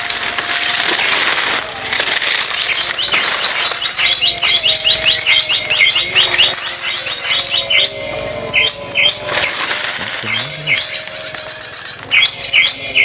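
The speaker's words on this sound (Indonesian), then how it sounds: "Trotol tulen guys, jantan ya. Satunya perenjak ini." Wild birds call along a riverbank: a male trotol and a prinia (perenjak) chirp and trill in rapid repeated phrases, loud and close, over a bed of faint insect buzz.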